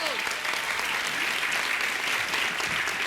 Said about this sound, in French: vous êtes la seule émission où on applaudit l'inspectrice des impôts